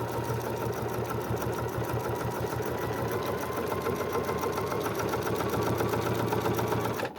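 Sewing machine stitching a quarter-inch seam on a fabric basket, a steady fast mechanical whirr with even needle clatter running for several seconds before stopping, close and unbroken by talk.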